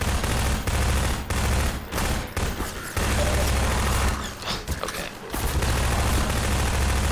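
Enemy gunfire in the first-person shooter game Half-Life 2, with loud, dense bursts of rapid shots that nearly fill the clip, broken by a few short lulls, and no voices.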